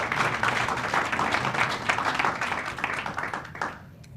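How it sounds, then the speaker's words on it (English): Sustained audience applause at a school board of education meeting, dense clapping from a room of people throughout, fading near the end. "let's give them a big round of applause."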